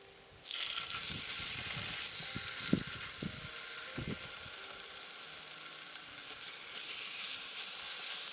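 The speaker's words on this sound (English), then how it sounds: "When the plancha is hot, place the onion and the beef pieces on it." Onion and beef pieces for Korean bulgogi hit a hot plancha with a sudden loud sizzle that continues as a steady hiss, with a few low thumps and scrapes early on.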